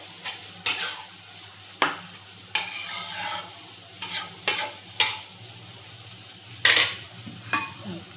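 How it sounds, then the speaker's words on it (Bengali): Fried potatoes stirred in a cooking pan, a ladle scraping and knocking against the metal in irregular strokes, each sharp clack followed by a brief sizzling rustle, close and clear. "এখন ভাজা আলুগুলো দিয়ে দিলাম।"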